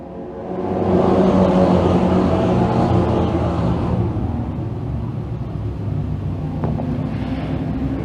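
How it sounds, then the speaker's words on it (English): Dirt track pro stock race cars, Fabco Dirt Car Pro Stocks, accelerate away at the green through turn four, a loud rising roar of many engines that builds, then settles into a steady rumbling drone with wind buffeting. "Green lights are on and away we go."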